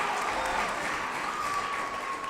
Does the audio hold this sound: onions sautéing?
no